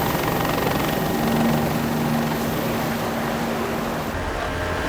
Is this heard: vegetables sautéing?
no